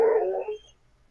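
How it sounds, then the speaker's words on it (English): A dog gives one short, high, whining howl that fades out within about half a second, heard close and fairly quiet. "That's Dayum howling."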